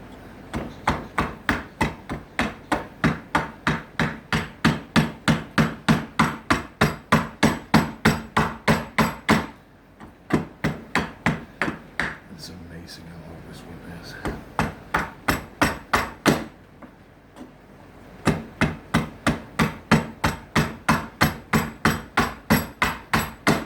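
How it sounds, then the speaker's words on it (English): A small refitted axe, sharpened on one side, chops and whittles wood for a beard comb in steady rapid strikes, close and sharp, with two brief pauses between runs. "This is just a small axe that I refitted and sharpened on one side, and I just used that for some heavy duty whittling."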